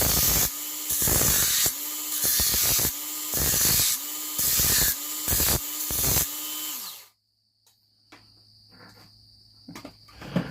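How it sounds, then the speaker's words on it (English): Electric knife sharpener used as a power file, loud rhythmic grinding bursts repeating about every second for seven seconds, then stopping into near quiet with faint crickets and small knocks. "This is a knife sharpener."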